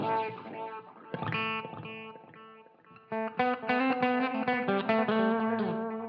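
An electric guitar played through a Helix Deluxe Comp into a distorted amp gives crunchy, saturated chords and single notes. A brief pause splits two phrases, and the second is louder and more driven.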